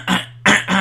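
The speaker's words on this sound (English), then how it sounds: "Let me clear my throat." A man clears his throat close to the mic in three rough, loud bursts with short gaps between them.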